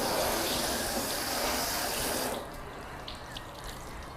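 A strong, broad spray of water floods a car body panel coated with 303 Touchless sealant, hissing steadily and close for a couple of seconds, then stopping and leaving quiet drips and trickles.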